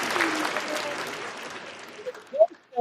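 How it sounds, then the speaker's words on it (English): Audience applause at a boxing team event, a steady patter of clapping from the crowd that thins and fades over a few seconds, followed by a couple of brief sharp sounds near the end. "Give us a round of applause."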